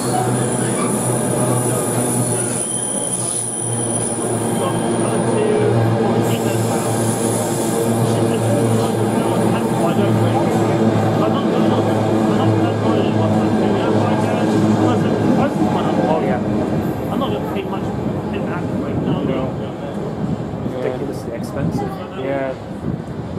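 A Class 68 diesel locomotive hauls a train past with a loud, sustained engine drone and rumbling wheels that hold for most of the pass before easing off, while people chat nearby.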